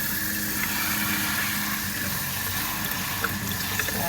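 Cold tap water runs steadily through a sieve of rice over a kitchen sink while making Spanish rice, a close and continuous rushing splash with no voices.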